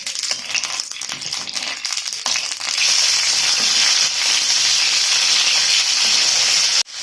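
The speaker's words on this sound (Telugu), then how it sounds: "ఇలా ఆయిల్లో ఒక 5 నిమిషాలు వేయించుకుంటే సరిపోతుందండి." Lemon pieces frying in hot oil for pickle, a loud, steady crackling sizzle with spitting pops that swells and holds close up, ending in an abrupt cut.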